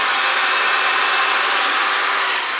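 A power drill boring pilot holes for screws while installing a ceiling support for a clawfoot tub shower curtain ring, a steady high-pitched whir, loud and close, running continuously without pause or voices.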